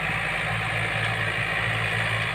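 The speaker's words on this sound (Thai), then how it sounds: "รถไถยันมาห้าสิบเอ็ดแรงมา" A Yanmar 51-horsepower farm tractor engine idles steadily, a continuous low, even rumble with a constant hum and no change in pace, heard alone with no voices.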